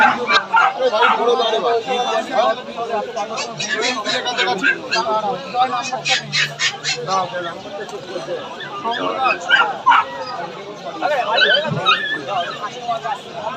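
Dogs yip and bark in bursts amid a busy crowd of overlapping voices at Galiff Street pet market in Kolkata, the barking mixed into steady chatter throughout.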